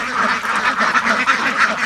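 Ducks on a farm, suffering from white lime-like droppings, quack together in a close, busy chorus of overlapping nasal calls that runs without pause.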